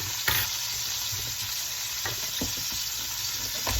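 A pork roast sizzling steadily in a pan as it is flipped, with a constant hiss of frying fat and a few soft knocks and scrapes of the meat being turned.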